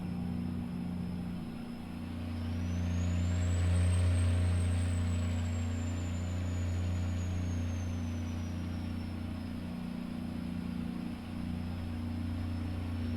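Steady low diesel drone from a Freightliner FLD truck hauling grain in American Truck Simulator, a constant engine hum with a slowly rising and falling whine running throughout, loud and close with no talk.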